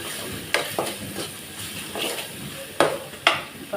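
Onions frying in a pan with Kashmiri chili powder while making vendhaya kulambu, stirred with a utensil in a few sharp scrapes and clinks over a steady, soft sizzle; no talking.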